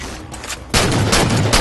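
Heavy shotgun blasts in Halo 4 multiplayer slayer, a loud dense burst of gunfire that erupts after a quieter moment and stays harsh to the end.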